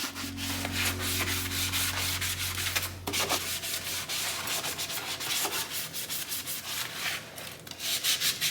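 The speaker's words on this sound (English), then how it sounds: "I'm going to use this pumpkin Scrub Daddy sponge to scrub down all of the sink" A pumpkin-shaped Scrub Daddy sponge scrubs a kitchen sink to lift marks and stuck-on food, a steady close rubbing and scouring with rhythmic strokes throughout, a low hum in the first half, no talking.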